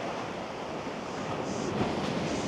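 Big ocean waves crash and splash steadily against a chest-high sea wall, a dense continuous roar of surf with some wind noise on the microphone.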